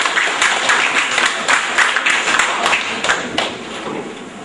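Audience applause at a talk, a burst of many hands clapping that starts loud and thins out toward the end, with a few sharper individual claps.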